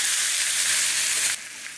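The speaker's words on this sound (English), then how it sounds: "In a hot skillet, I'm going to add some olive oil, and once that is nice and heated, I'm going to add my turkey thighs" Turkey thighs searing in heated olive oil in a hot skillet over medium-high heat give a loud, close, steady hiss that drops abruptly to a softer sizzle near the end.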